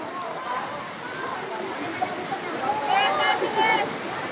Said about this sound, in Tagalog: Maagos doon. Malalakas yung tubig.